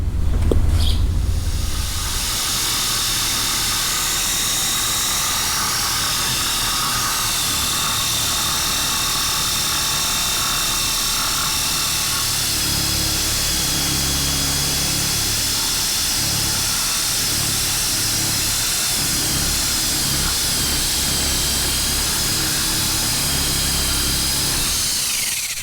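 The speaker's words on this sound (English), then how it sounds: "I have to cut some of this off to bring the bumper down." A power tool cuts steadily through a fiberglass bumper lip on a 1979 Chevy Malibu, a loud continuous whine and grind lasting throughout without talk.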